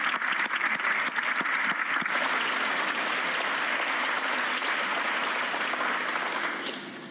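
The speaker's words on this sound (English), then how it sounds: "I invite you all to applaud if you feel thankful for your families playing a vital role in our democratic" Members of the Canadian House of Commons break into applause during Question Period, a broad steady wash of clapping across the chamber that fades out near the end.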